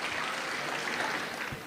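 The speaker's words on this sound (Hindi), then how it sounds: "तो जोरदार तालियों से एक बार रुबीना याज का इस्तकबाल किया जाए।" An audience at an Urdu poetry mushaira in Dubai applauds a poet, giving a short burst of even, moderately loud clapping that fades slightly toward the end.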